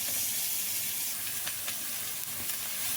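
Chopped onion sautéing in ghee with a pinch of salt in a pan, a steady bright sizzle and hiss with faint stirring clicks, heard alone without any talk.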